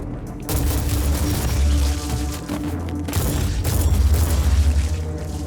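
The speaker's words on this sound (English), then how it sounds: "Shotgun." Shotgun blasts in the game Warhammer 40K: Inquisitor, heavy booming shots with dense rumbling echoes, loud and sustained over several seconds with no talk.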